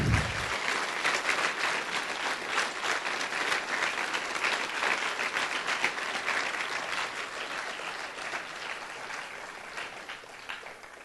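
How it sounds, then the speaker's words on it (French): A room full of people applauds steadily, a dense patter of clapping that holds strong and slowly thins toward the end. "J'aimerais ça qu'on leur donne une bonne main d'applaudissements"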